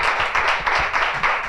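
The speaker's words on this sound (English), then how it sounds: "can we have one more round of applause?" An audience claps in a short burst of dense, steady applause, close and fairly loud, with no speech over it.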